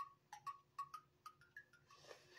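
Irregular drips fall one by one, each a short pitched plink, about a dozen in quick succession, quiet and close, ending in a soft hiss.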